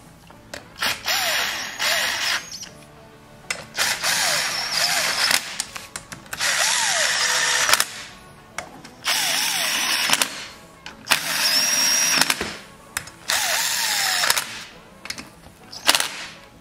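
A power tool spins a socket to torque down bolts on a Briggs engine. Seven loud, close whirring bursts each start with a rising whine and are separated by short pauses.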